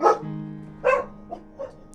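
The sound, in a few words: dogs barking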